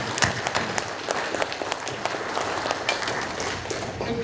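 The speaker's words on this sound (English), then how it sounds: "Let's give him a round of applause, Edwin Bird." An audience at a legal update presentation applauds a speaker: a dense, fairly faint patter of many hands clapping, steady and continuous from start to finish.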